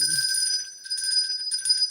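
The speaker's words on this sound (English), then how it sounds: "So I hope you're ready with that bell." A small hand bell rings out bright and close, its sustained metallic tone holding steadily for about two seconds with slight pulses as it is shaken.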